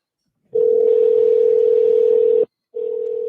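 A loud steady telephone ringback tone sounds for about two seconds, stops, then starts again, close and clear with no talk.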